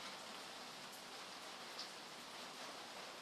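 Rain drums steadily on a roof, a faint, even, continuous hiss with no other sounds rising above it.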